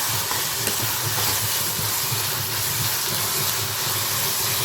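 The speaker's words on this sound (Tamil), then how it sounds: "வெங்காயம் நல்லா வதங்கட்டும் பார்க்கலாம் பாருங்க வெங்காயம் நல்லா வதங்கிட்டு" Onions sizzle and sauté in a pan while a mango vathal kuzhambu is being cooked, a steady close hiss that holds without a break and without talk.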